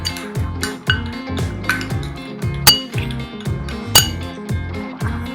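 A utensil stirring glitter into a mixture for a greeting card, giving rhythmic close clinks and taps against a container, alone and fairly loud.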